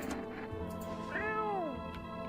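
A cat in a video game gives a single drawn-out meow that rises and falls, fairly clear over a faint background hum, no speech.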